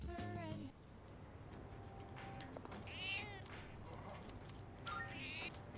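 A cat meows several times within the Persona 3 Reload video game, short bright calls standing out over a quiet game backdrop with faint chatter-like sounds.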